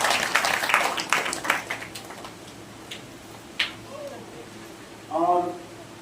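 An audience at a satsang religious discourse claps in a dense burst that fades over about two seconds. A few scattered claps follow before a voice begins speaking.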